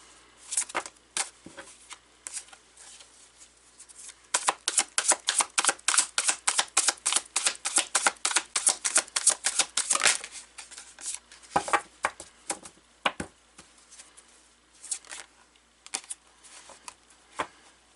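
Tarot cards being shuffled, rapid papery riffles and flicks in bursts, close and fairly loud, with a long dense stretch in the middle and scattered slaps afterward.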